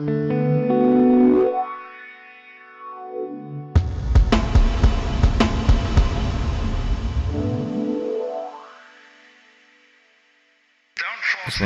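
Sustained synth drone run through the high-pass filter of a Folktek Alter Y effects pedal, sweeping up to a thin tone and back down, with a burst of dense, crackling texture in the middle and a short silence near the end.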